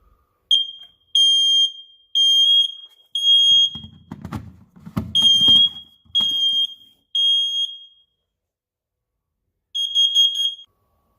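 A newly installed detector's alarm sounds during a test, a loud, close series of shrill electronic beeps in a regular pattern, with some handling noise midway and a final burst after a pause.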